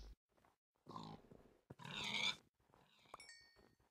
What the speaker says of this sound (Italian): Dai, poveri maialini.